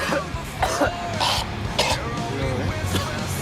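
Someone coughs repeatedly in rough, hacking bursts, close by, with a steady low background noise underneath.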